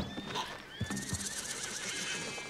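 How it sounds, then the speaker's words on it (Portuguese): Horses in the Red Dead Redemption 2 video game whinny and neigh with quavering cries over hoof clip-clops, fairly quiet and somewhat distant, with no talking over them. "Oh, os cavalos assustaram, velho."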